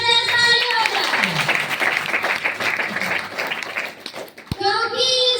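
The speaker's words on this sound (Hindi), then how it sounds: "एक बार इस सिस्टम के लिए जबरदस्त ताली हो जाए" A crowd at a DXN gathering in Badlapur, India, clapping loudly and continuously, with voices and cheering mixed in and a brief dip before the applause resumes.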